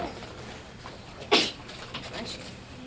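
A single quick sneeze bursts out in a first-grade classroom during a reading lesson, brief and fairly close, amid quiet room noise.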